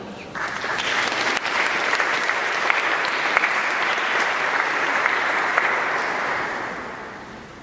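Sustained audience applause welcomes a speaker at a community event, loud and steady for several seconds before tapering off, with no speech over it.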